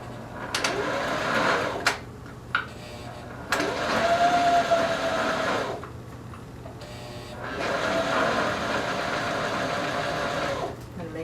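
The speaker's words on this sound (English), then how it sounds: "So I'm just going to do a zigzag stitch, like I said, all the way around." Sewing machine running zigzag stitches around a reversible bikini swimsuit, loud motor whirring in several long bursts with short pauses between, close by.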